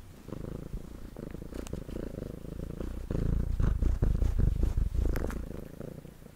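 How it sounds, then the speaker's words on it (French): Titi the cat purring close to the microphone, a steady rumbling drone that swells louder partway through, with a few soft rustles and no speech. "Ah, vous voulez écouter les ronrons?"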